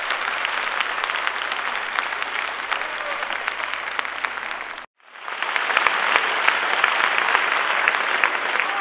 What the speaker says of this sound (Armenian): եկեք եւս մեկ անգամ ծափարենք երիտասարդին